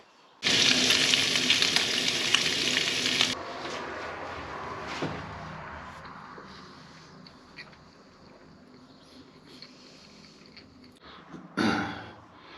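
A burst of loud sizzling as bacon hits a hot pan, fading to a quieter crackle, then a brief louder hiss near the end, outdoors while wild camping at a WW2 pillbox.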